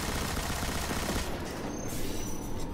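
Rainbow Six Siege gunfire, a continuous dense rattle of rapid shots forming one sustained burst, moderately loud, with no talk over it.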